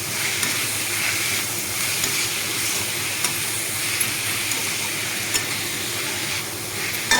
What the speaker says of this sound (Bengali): 1 চামচ ধনের গুঁড়ো দিয়ে ভালোভাবে নাড়িয়ে চেড়ে নেব